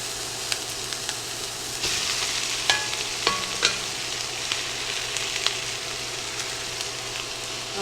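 Italian sausage sizzles in a pot, a steady, close frying hiss broken by several sharp scraping clicks as a utensil stirs and breaks it up.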